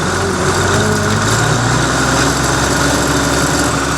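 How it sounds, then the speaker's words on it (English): A tractor engine runs loud and close with the power takeoff engaged while baling small bales of straw, giving a dense steady mechanical roar and drone. "I'll turn the power takeoff on. Bring our RPMs up a little bit."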